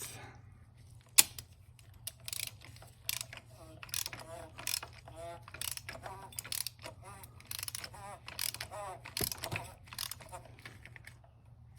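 Ratchet with a swivel extension tightening the oil drain plug on a Saab 9-3, giving a run of quick, close mechanical clicks over a steady low hum, with some faint talk.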